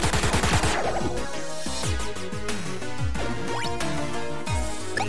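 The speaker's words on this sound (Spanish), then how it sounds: "Disparo." Rapid bursts of gunfire from the video game Chroma Squad, with repeated sharp shots rattling over busy game music and effects, loud and continuous throughout.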